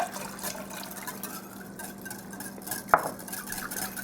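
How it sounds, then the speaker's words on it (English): A spoon clinks and swirls through liquid in a glass, with a sharp clink near the end, close and fairly quiet. "You stir, make sure everything's good and mixed"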